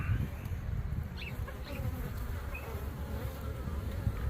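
Honeybees hum in a steady, low buzz at the entrance of an untreated hive, close and continuous, with a few individual bees droning past amid the dense swarm sound.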